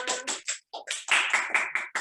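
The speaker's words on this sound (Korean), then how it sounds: "박수 크게 쳐주세요." An audience at a Korean lecture event claps on cue, about eight loud, close bursts in a quick rhythm separated by short gaps, with the later bursts merging into a fuller round.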